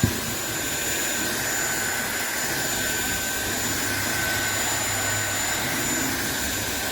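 A SunSare 600W cordless stick vacuum cleaner runs steadily, a close, loud, even whine and rushing airflow with a faint high tone, heard alone without talk.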